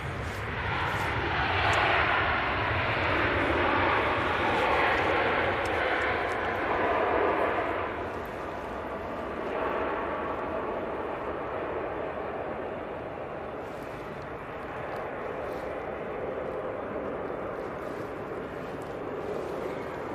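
Airplane landing at Manchester Airport with a slight bounce, a broad engine roar swelling and easing over the runway at a distance, steady throughout with faint background noise.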